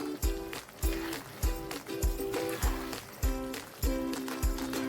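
Chilli chicken with spring onion is stirred in a pan: a regular scrape and clatter about every half second, each stroke with a short ringing clink, over a low background hiss.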